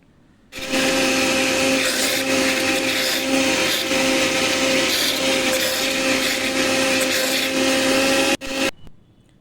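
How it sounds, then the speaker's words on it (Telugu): A kitchen blender runs at steady high speed blending papaya into juice, a loud continuous whir with a fixed motor whine, then cuts off abruptly near the end with a brief rattle. "ఈ విధంగా మీరు బ్లెండర్లో వేసి బ్లెండ్ చేసుకోండి."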